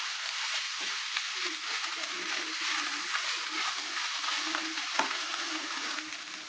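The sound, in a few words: stirring fish patty filling cooking in a pan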